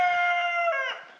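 A rooster crows once, a close, loud, harmonic call of just over a second that trails off at the end.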